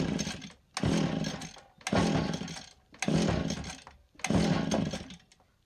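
A STIHL FS80R string trimmer engine repeatedly sputters and tries to catch after being taken off choke, running rich; four loud, close bursts of ragged two-stroke engine noise separated by brief pauses.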